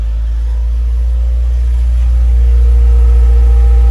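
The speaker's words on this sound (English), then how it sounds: "It starts up pretty nicely." A rebuilt, crash-damaged car's engine runs steadily after starting, a loud, close low rumble that rises slightly in level partway through, with no talking.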